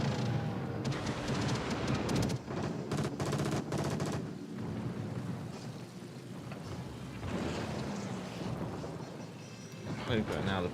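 Anti-aircraft guns on the cruiser Belfast in World of Warships: Legends keep up dense, rumbling fire, with rapid bursts of pops over a continuous roar of battle noise and explosions, loud and sustained throughout.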